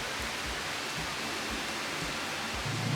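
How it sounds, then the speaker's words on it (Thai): Heavy rain pouring down by the sea in Pattaya, a dense, steady hiss of falling water that stays constant and fairly loud throughout, with no voices. "เลิกเล่นปุ๊บฝนตกปั๊บเลยครับนี่ โอ้โหฝนมองไม่เห็น ไม่เห็นน้ำทะเลเลยนี่"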